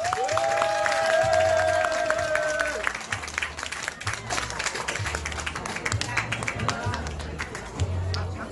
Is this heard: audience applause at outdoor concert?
yes